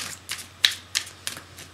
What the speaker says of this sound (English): I shuffle them a lot